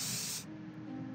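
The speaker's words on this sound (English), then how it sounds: "and now spray red." A short, bright spray-paint hiss from the video game Return to Grisly Manor lasts about half a second, then cuts off and leaves a faint low hum.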